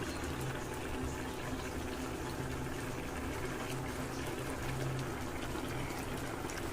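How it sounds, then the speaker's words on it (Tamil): Chopped chow chow and moong dal boil together in a pot of water, making a steady, continuous bubbling that runs evenly throughout at moderate, close range with no voices. "நம்ம நறுக்கி வச்சுருக்க சவுச்சவு இது மாதிரி பாசிப்பருப்பு போட்டு நல்லா வேக வச்சுக்கலாம்."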